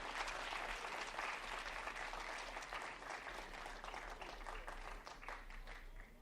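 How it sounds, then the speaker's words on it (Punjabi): Sustained applause from a seminar audience in a hall, dense steady clapping that stays loud for the whole stretch with no talk over it. "ਇੰਨੀਆਂ ਤਾੜੀਆਂ ਉਦੋਂ ਪੈਂਦੀਆਂ"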